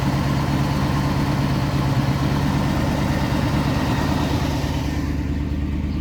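Engine of a 1972 Range Rover with freshly adjusted tappets running steadily and close, an even low rumble with no talk.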